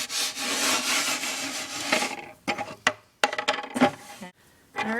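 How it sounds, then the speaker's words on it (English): Fingers rubbing an olive oil and salt paste into a water-spotted wooden furniture surface, a loud, close, continuous gritty scrubbing that breaks into short rasping strokes with brief gaps toward the end. "I'm just gonna use my fingers here and just rub that on. Just rub that paste right into the wood."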